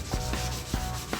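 Primer being hand-sanded with 220-grit paper on the fender of a 1972 Chevelle, a steady dry rubbing with a few sharper strokes standing out, close and alone with no talk.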